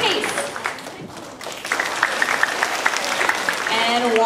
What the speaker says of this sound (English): we can give them a little round of applause